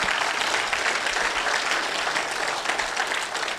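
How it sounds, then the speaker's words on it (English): Audience applause at a political rights meeting: a dense, steady wash of many hands clapping together that holds at an even, loud level for the whole stretch, with no voices above it. "Let's give Mark another big round of applause"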